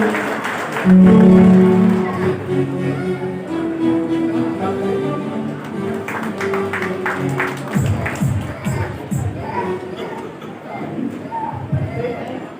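Audience at a ceremony applauding the guests of honour, a sustained wash of clapping that carries on for several seconds alongside a loud voice and stage sound.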